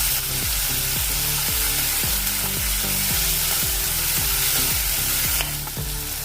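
Sliced tomatoes fry with onion for methi matar, sizzling loudly and continuously while rhythmic stirring scrapes repeat against the pan.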